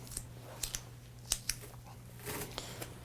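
Several sharp snips and short tearing sounds come from a 1-inch piece of tape being cut during a pellet insertion procedure, quiet and close, spaced irregularly with a brief rustle near the end.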